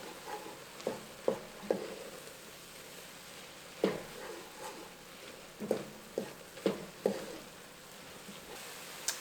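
Garlic with chili powder, smoked paprika, oregano and cumin cooks in a pan, a faint low sizzle broken by several sharp scraping taps of a utensil at irregular intervals, with no voices.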